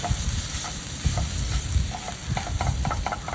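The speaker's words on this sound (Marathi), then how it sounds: "त्याची तयार पेस्ट टाकायची मटाराची आणि थोडा त्याचा कच्चटपणा पण आपल्याला छान परतून घ्यायचे" Green pea paste sautéing in oil in a nonstick pan for kachori filling, with a wooden spoon stirring and scraping through a dense, close hiss of frying.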